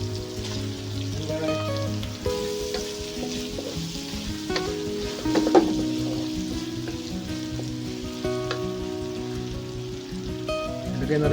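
Squid balls frying in a hot pan, a loud steady sizzle with crackling pops and occasional stirring scrapes, continuous throughout.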